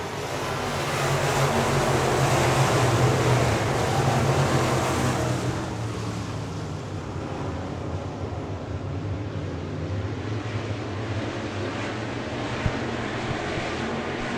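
Dirt track race cars at Victory Lane Speedway in Manitoba roar back to green after a caution, a dense, loud engine drone that swells in the first seconds then settles into a steady, slightly more distant pack rumble.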